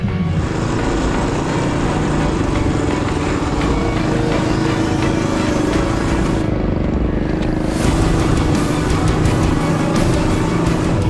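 An old mini bike engine runs steadily through a long endurance ride, a constant loud buzzing drone with slight shifts in pitch and no speech.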